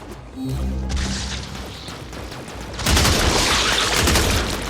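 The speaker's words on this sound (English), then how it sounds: "Hive located. Destroy it with weapon fire." Weapon fire in the Warframe video game blasts an infestation hive, with loud rapid bursts of gunfire and crashing impacts that grow denser and heavier partway through.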